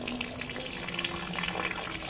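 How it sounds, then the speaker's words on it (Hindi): Water is poured by hand onto a yellow-flowered plant at home, a steady, close splashing and trickling that runs without pause. "इसलिए मैं खुद ही पानी डाल रही हूँ।"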